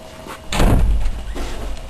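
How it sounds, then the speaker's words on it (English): A dull thud as a door is pushed shut nearby, followed by a softer bump and low room rumble. "let me shut the outer door, too"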